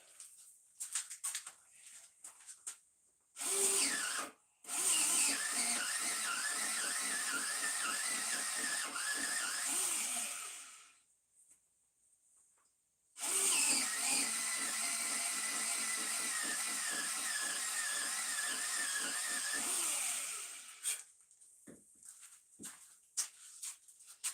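Pencil or colored pencil sharpened in a sharpener, two sustained buzzing grinding runs of several seconds each with a pause between, preceded and followed by faint scattered clicks and handling noise.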